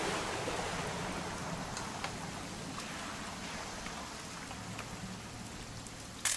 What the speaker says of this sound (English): It's going to rain the whole weekend